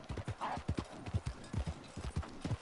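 Rhythmic clip-clop of an American Paint horse's hooves in the Red Dead Online game, steady, close and fairly loud, with a soft voice faintly underneath.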